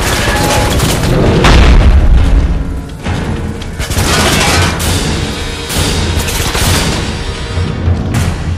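Loud explosions in the Harry Potter and the Deathly Hallows Part 2 video game roll on for about eight seconds as a dense, rumbling series of heavy blasts and crashes, with no talking.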